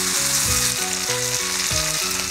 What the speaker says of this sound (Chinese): 这个时候再倒入煎好的土豆片